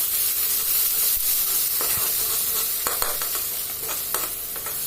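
Ground kadhi masala cooking in oil in a pan, a loud continuous sizzle with spatula stirs and scrapes rising over it every so often, close and without speech.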